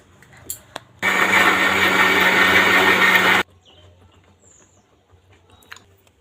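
A kitchen mixer grinder whirs loudly for about two seconds, blending coriander leaves with salt, ginger, garlic, onion and tomato into a paste, starting and stopping abruptly between quiet clicks and handling sounds.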